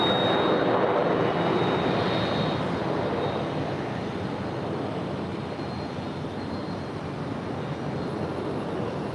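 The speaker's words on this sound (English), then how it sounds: "Air New Zealand Dreamliner heading back to Auckland, flight 1003, making her way over." An Air New Zealand Dreamliner airliner flies over LAX, a loud, steady broadband jet roar that fades slightly across the whole stretch, with no voices.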